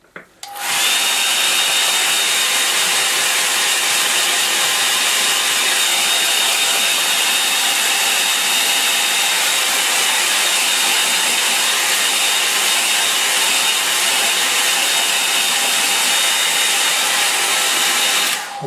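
A hair dryer blows steadily on a watercolour painting, a loud, continuous whooshing roar with a faint motor whine that runs unbroken for nearly twenty seconds after a brief start.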